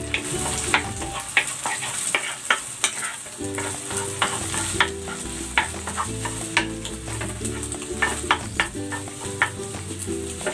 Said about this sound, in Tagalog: Lulutuin ko muna itong scrambled egg.